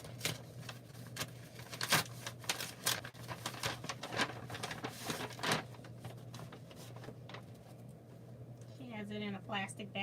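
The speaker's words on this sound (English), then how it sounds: "gonna open the bottom of this envelope" Someone tears open the bottom of a paper envelope and handles a plastic bag inside it, making close crinkling, rustling and tapping sounds with soft background murmur, and a voice briefly speaks near the end.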